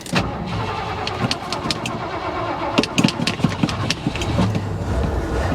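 A long-stored 1982 Ford F150 XL pickup engine cranks and catches, then keeps running with a rough, uneven idle and irregular sputters close by, with no talk.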